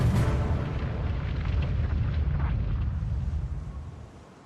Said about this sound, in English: A single torpedo strikes the rear of the ship.